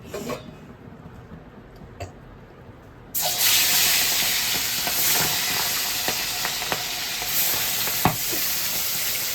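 Tangra fish fry vigorously in hot oil: after a few quiet seconds with faint clinks, a loud, sudden sizzle bursts in and keeps roaring and spitting close by, with occasional sharp pops.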